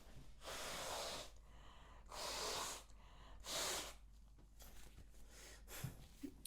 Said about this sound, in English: I think I need to blow my nose